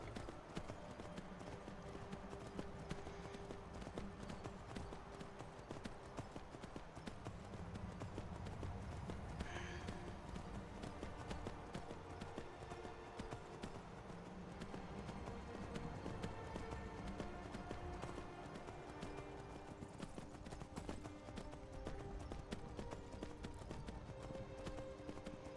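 Horses' hooves clip-clop steadily in the Skyrim VR video game, a continuous quiet galloping rhythm heard under faint game ambience and music.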